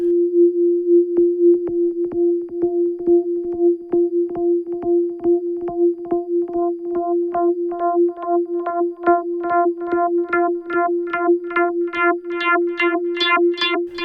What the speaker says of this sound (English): generally the sine wave will sound more metallic, the stronger the modulation is